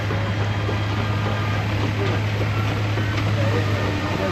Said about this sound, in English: there's another traction engine, powered by steam, of course, doing some wonderful work